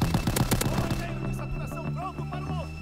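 AVS-36 rifle gunfire in Call of Duty WW2, a rapid burst of loud close shots in the first second, then quieter game sounds and faint distant pops.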